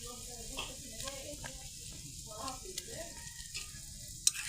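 Water boiling and bubbling in a pot as phulhari and an egg are dropped in, a steady sizzling churn with soft splashes and a sharp clink near the end, voices faint in the background.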